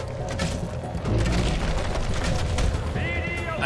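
Enemy gunfire in the Fable 2 video game, dense bursts and booms crackling continuously throughout, loud and close, layered with other game sounds and effects.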